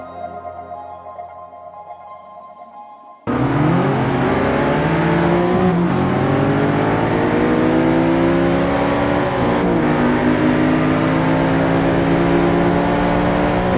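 A McLaren 650S Coupe sports car roars loudly after a quiet start, its engine climbing through several gears with rising whines, each upshift dropping the pitch before it screams upward again, sustained and close.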